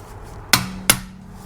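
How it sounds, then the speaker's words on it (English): Two sharp metallic cracks half a second apart as a wrench breaks oil pump bolts loose on an aluminum Nissan 370Z NISMO engine, followed by a faint ringing tone, with no talk. "I'm gonna go ahead and break these bolts loose again, just like I did with the timing covers."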